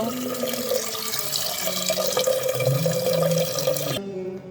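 Chana dal, matar dal, moong dal and rice are rinsed by hand in water from a running tap, steady splashing and sloshing close by for a few seconds before the flow cuts off.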